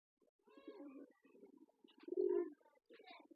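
Homer pigeons at a loft give soft, throaty cooing calls in a few murmuring bursts, the loudest in the middle, fairly close and with no talking.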